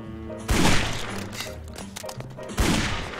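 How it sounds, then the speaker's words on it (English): Gunfire from the video game Guns, Gore & Cannoli: two loud, sharp blasts about two seconds apart, each with a rumbling tail, and a busier stretch of game sounds between them. "I love that it has a blast at the point you fire, but then the bullet keeps travelling"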